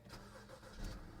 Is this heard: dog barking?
no